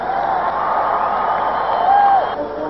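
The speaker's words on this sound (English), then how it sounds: "This crowd has the intensity of a playoff game" Hockey arena crowd roars with sustained cheering after a goal in a tense, playoff-like regular-season game, a dense continuous wall of noise with whoops and a rising surge near the end.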